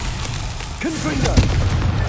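Confringo blasting spell going off in Hogwarts Legacy, a booming burst with a rumbling low end under faint magical whooshes, fairly loud against steady game ambience.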